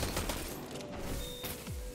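Bursts of Destiny 2 video game combat as grenades are thrown, with dense overlapping explosive pops and thuds rattling through two seconds without pause, fairly loud and close.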